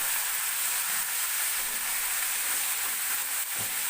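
Half a kilo of small chicken pieces sizzle with onion in a pan, a dense, close, steady frying hiss with faint stirring scrapes toward the end and no voices.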